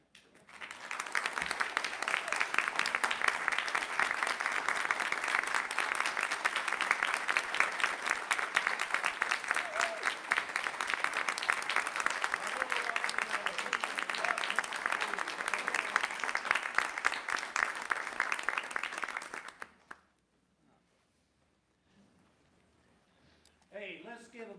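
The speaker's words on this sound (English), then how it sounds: "let's give a big round of applause for our instruments and accompaniment" Sustained applause from a large church congregation at a Christmas cantata service claps steadily for about twenty seconds, then stops abruptly and a voice begins speaking.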